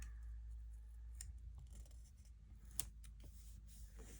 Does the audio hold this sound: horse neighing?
no